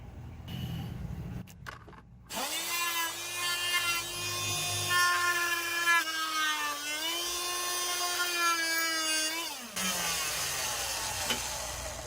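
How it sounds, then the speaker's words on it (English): A rotary cutting tool trims a part during a Hydra install on a 1999–2003 7.3L Powerstroke, spinning up after a few clicks into a sustained, steady high whine that holds for about seven seconds before cutting off. "we're going to go back to cutting this thing, or trimming this thing a little more"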